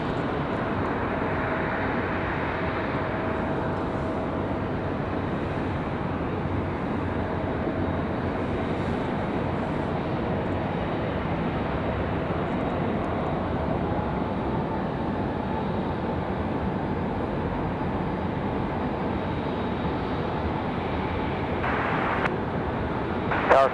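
A Delta airliner arriving at Raleigh Durham airport gives a steady, broad jet roar that holds evenly throughout, fairly distant and smooth, with a brief brighter swell near the end.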